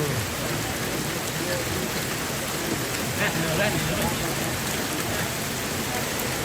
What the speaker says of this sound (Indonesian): Ya, biar main hujan-hujan.